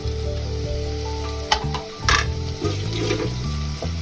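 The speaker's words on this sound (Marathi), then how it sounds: "थोडा कांदा परतला की त्यात आता मी आलं लसूणची पेस्ट घालते आणि लगेचच टोमॅटो सुद्धा घालते" Onion sizzling in a pan as ginger-garlic paste and tomato go in for pav bhaji, a steady fry with sharp bursts of spattering as ingredients hit the hot oil, close and without voices.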